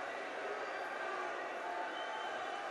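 Low, steady murmur of a large crowd of Boy Scouts at a jamboree, a continuous diffuse babble with no distinct cheers standing out.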